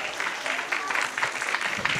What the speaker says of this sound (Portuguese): Arrancou aplausos a jogada aqui da galera que está assistindo o Paulistano